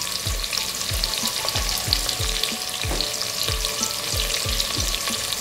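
Ginger and garlic fry in a pan for a bottle gourd and lentil curry, a loud, steady sizzle broken by about a dozen rhythmic spatula scrapes.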